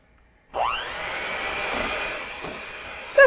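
An electric hand mixer beating Polish crepe batter after oil is added, a steady broadband whir that starts abruptly and holds at an even level for about three seconds, close and alone.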